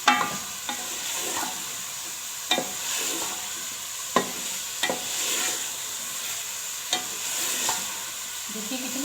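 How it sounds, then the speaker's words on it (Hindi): Potatoes and moongre with green chilies stir-fry in a pan, a steady sizzle broken by periodic sharp scrapes of a spatula every second or two, close and moderately loud with no talking. "इसको अच्छी तरह भूनते हैं और ये हरिया मिर्चा डाल देते हैं। इसको 3-4 मिनट भूनते हैं।"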